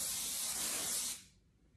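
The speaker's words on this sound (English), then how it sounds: "So I spray this in." A single steady burst of ICON Airshine hair shine spray, a close, loud aerosol hiss lasting about a second before cutting off to quiet.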